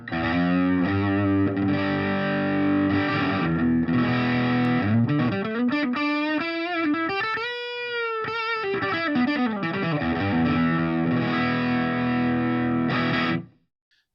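Electric guitar through an amp fitted with a bright cap mod for Dumble-style tones, sustained distorted chords with a warm, rich tone and a sweeping bend in the middle, loud and steady before cutting off near the end.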